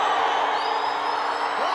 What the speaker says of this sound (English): Oh, and the crowd's erupted.